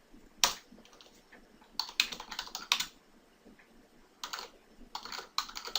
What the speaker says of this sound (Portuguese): eu vou digitar a pergunta aqui no bloco de notas